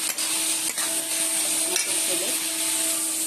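Fish curry cooking in a pan, with a steady loud sizzle of frying and scraping stir strokes, no talking.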